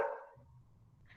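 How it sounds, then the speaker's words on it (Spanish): A dog gives a single bark at the start, moderately close, then a low background rumble continues with a faint higher sound near the end. "Estoy escuchando un perro."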